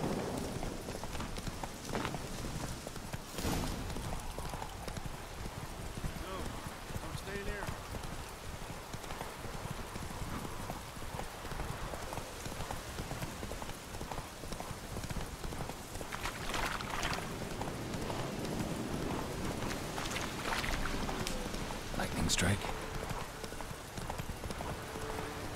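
A horse gallops in The Witcher 3, with steady rapid clip-clop hoofbeats on the ground throughout, a brief whinny, and soft ambient game sounds underneath; no talking.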